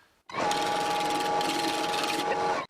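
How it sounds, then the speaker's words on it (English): An old file with a ground scraping edge scraping a wooden chisel handle, likely as it turns, a loud continuous rasping whine starting abruptly and holding steady for about two seconds before cutting off. "for that I'm going to use this old file, and I just ground the scraping edge"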